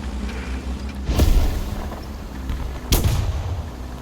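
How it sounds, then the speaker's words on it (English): Artillery strike explosions in War Thunder, two heavy booming impacts a couple of seconds apart over a low rumbling tank-battle backdrop. "Have an artillery strike hitting."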